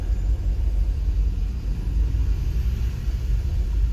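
A steady low road rumble with broad noise, cars going by close at hand while out hacking on horseback, continuous throughout with no voices.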